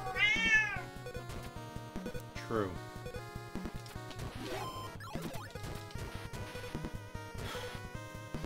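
Loud, close cat meows sound over game music with beeps and synth sweeps, with a few more meow-like bursts scattered through.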